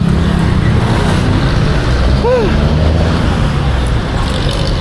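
Car engine idling up close with steady roadway traffic rumbling around it while parking downtown in Baguio City, a continuous low hum throughout with a brief higher whine near the middle.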